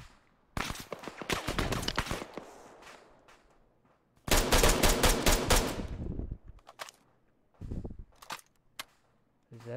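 Bursts of gunfire from a shooter in a video game stand-off: a rapid volley, a second heavier sustained barrage after a pause, then a few scattered shots, loud and close with no talking.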